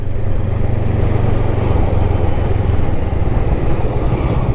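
A motorcycle engine idles loud and steady at a petrol pump on a ride from Goa to Pune, a constant low rumble with no speech over it.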